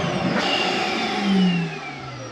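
A central vacuum inside a 2022 Keystone Raptor 423 toolbar RV switches on, a motor whine starting abruptly and rising in pitch as it spins up, close and steady, with no talking.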